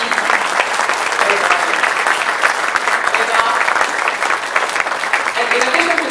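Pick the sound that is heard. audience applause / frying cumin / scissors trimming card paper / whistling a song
audience applause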